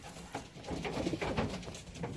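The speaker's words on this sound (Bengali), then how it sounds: "দেখুন এখানে ডাকছে কবুতর" Pigeons cooing nearby, a string of low throaty rolling coos building in the middle of the clip, with no voices.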